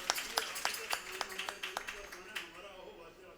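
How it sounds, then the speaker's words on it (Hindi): An audience gives a short burst of scattered clapping to welcome a guest at a Hindu devotional katha on Krishna's birth. The claps come as a quick irregular patter and fade out after about three seconds. "एक बार ताली बजा करके आपका"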